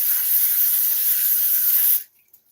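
Cooking spray hisses onto a pan in one steady, close, two-second burst, followed by quiet with a faint clink.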